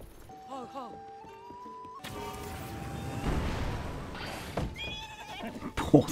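A horse in Zelda: Tears of the Kingdom gives a short, wavering whinny near the start. Louder crashing and clattering game noises follow, with a person speaking over them.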